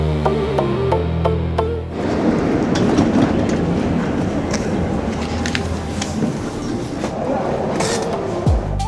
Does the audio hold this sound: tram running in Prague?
yes